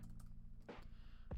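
Quiet computer keyboard typing, a few soft key clicks under a low steady hum, with a louder thump near the end.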